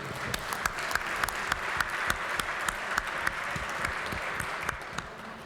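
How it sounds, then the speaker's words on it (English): Applause fills the West Virginia legislative chamber, a steady bed of many hands clapping with sharp individual claps popping out distinctly near the listener, sustained evenly throughout. "So we want to give them a round of applause and thank them for all their help too."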